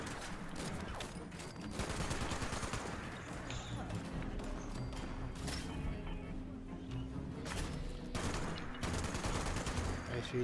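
Sustained gunfire in a Fallout 76 street battle against cultists, with rapid overlapping shots and machine-gun bursts under a steady din, and French-speaking voices talking over the fighting.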